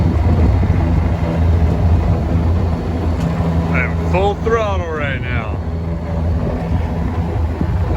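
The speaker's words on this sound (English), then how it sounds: "I apologize in advance for the engine noise." A sailboat's engine running at full throttle on a singlehanded passage to Eleuthera in the Bahamas, a steady loud drone with wind and water noise throughout, and a brief tonal chirp partway through.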